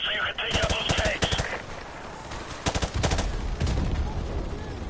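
Rapid automatic gunfire in a military video game, bursts of close, loud rattling shots separated by short pauses, with several distinct volleys across the stretch.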